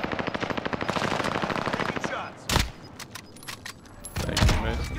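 Loud rapid automatic gunfire in a squad-based shooter video game, a sustained burst followed by scattered single shots and impacts, with players talking over it.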